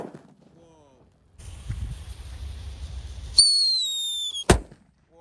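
A Whistling Thunder firecracker set among six colored water balloons: a fizzing fuse, then a rising, piercing whistle and a single sharp bang near the end.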